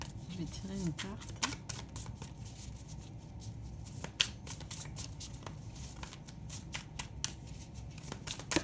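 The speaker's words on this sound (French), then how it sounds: "Je vais tirer une carte." Tarot cards shuffled and drawn by hand in a quiet room, a steady papery riffling with small snaps and flicks across several seconds, close and soft, with faint speech now and then.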